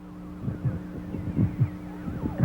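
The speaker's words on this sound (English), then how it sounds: "It's his heartbeat." A cartoon heartbeat effect from a Space Angel episode, heard as a steady series of low, soft double thumps over a constant hum, repeating rhythmically without voices.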